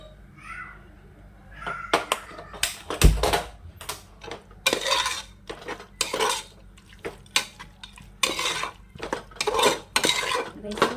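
A spoon scraping and clanking against a metal pot while masala is stirred and mixed on a lit gas stove for chicken biryani; repeated irregular metallic knocks and scrapes, fairly close, with short gaps between strokes.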